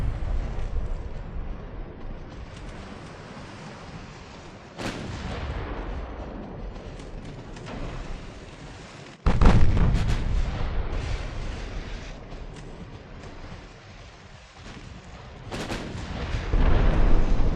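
Naval guns boom in the Ultimate Admiral Dreadnoughts warship game, several heavy blasts spaced a few seconds apart over a continuous low rumble of battle noise, loud and close.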